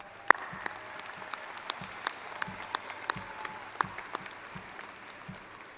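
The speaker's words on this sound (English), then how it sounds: "Will the Legacy staff please join me in a round of applause for our graduates?" High school graduation ceremony audience and staff clap for the graduates, a moderate spread of individual, distinct hand claps in a large hall rather than a dense roar, no talking.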